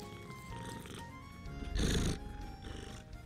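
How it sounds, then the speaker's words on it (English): A cat purring right into a microphone at home, a close, low rumbling purr with a louder swell partway through. "Here, we'll let him purr into the microphone."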